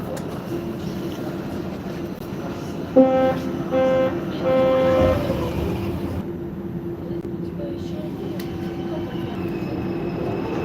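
Metro train rumbles steadily between stations toward Politekhnika, a loud continuous roar with a brief tonal chime or announcement tone partway through, heard from inside the car.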